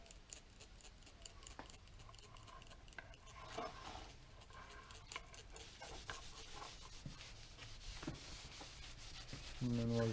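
Oil rubbed by hand into the dried-out wooden handle of an old axe, giving a soft, steady close-up rubbing and scuffing with occasional small knocks.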